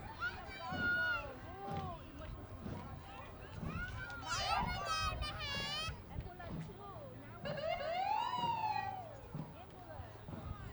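An emergency vehicle siren wails in rising and falling sweeps during the Garden Grove Strawberry Festival parade 2023, loud amid crowd noise, children's voices and someone talking over it.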